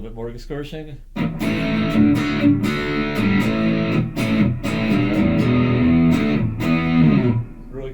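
Heavily distorted electric guitar chords through an MXR M75 Super Badass Distortion pedal ring loud and close for most of the stretch, after a brief opening of lighter plucked notes and possible talking.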